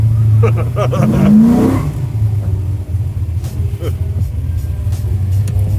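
A 1000 hp nitrous-fed Chevy El Camino sleeper, an eight-second car with a 350 NOS shot, roars close and loud under hard acceleration, a deep engine rumble sweeping upward then settling into a sustained drone, with an excited voice over it.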